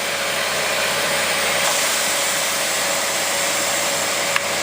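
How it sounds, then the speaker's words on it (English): Air compressor running in a workshop during a dirt bike tire change, a loud steady broadband roar throughout with a brief click near the end. "Here's the compressor kick on there."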